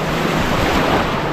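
Sea waves at Varsoli beach, a loud, continuous roar of surf close by, mixed with wind buffeting the microphone.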